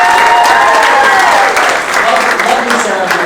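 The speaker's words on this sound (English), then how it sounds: "just a round of applause and congratulations to the bride and groom." Wedding guests applaud the bride and groom, a dense, steady round of clapping that fills the room at close range, with some voices mixed into the crowd noise.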